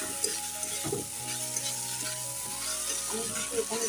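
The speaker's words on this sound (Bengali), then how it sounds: "এখন ভালো করে নেড়ে চেড়ে দিচ্ছি।" Fennel paste thinned with a little water is stirred as it fries in a pan for a fennel and okra dish, giving a steady close sizzle with scraping stir strokes throughout and a faint tonal hum underneath.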